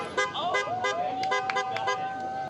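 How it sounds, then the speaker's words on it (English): Car horns toot and honk from vehicles lined along a Tempe street during a birthday celebration, with a sustained horn tone and several short beeps over traffic noise and faint voices. "Cars lined one Tempe street today as people honked and cheered"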